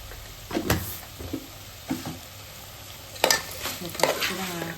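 Mutton curry with ginger being stirred in a pan, giving a handful of scraping, clattering strokes over a low frying sizzle, close and moderately loud with no talking.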